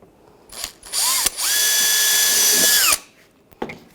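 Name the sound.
small drill drilling a pilot hole in car bumper bezel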